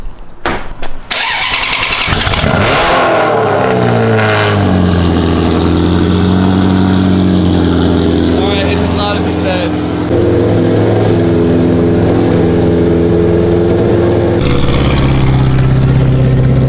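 A loud car engine cold-starts with a sharp crank and bark, then settles into a steady, heavy high idle that keeps rumbling close by, dropping slightly in pitch near the end.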